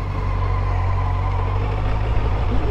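A Benelli 600 GT motorcycle engine runs close by with 41,242 km on it and a cracked oil sump, a steady loud low hum with an even, unbroken idle throughout.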